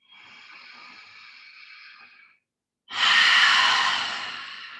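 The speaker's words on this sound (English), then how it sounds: "Inhale through the nose. Exhale." Deep yoga breathing: a long, steady inhale drawn through the nose, a brief pause, then a louder, fuller breath that swells and slowly fades, close and clear with no talking.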